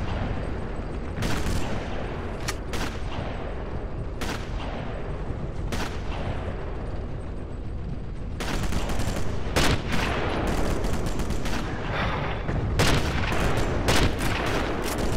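Gunfire fills a Sniper Elite battle between Russian and German forces, scattered sharp shots at first, then dense overlapping bursts of rifle and machine-gun fire, loud and busy with no talk.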